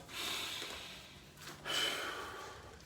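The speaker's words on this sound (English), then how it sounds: "breathe, in through the nose, out through the mouth" Steady breathing during a martial arts staff-spinning breath-control drill, a long airy inhale through the nose followed by a strong exhale out through the mouth, heard close and alone without talk.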